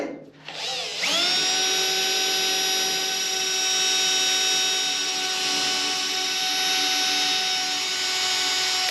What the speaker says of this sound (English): I'll drill a little hole in each one, don't have to go all the way through